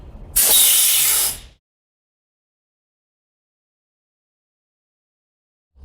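Truck air brake releasing during a roadside DOT inspection, a single loud close burst of hissing air lasting about a second before falling silent.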